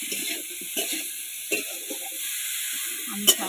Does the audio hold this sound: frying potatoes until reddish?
yes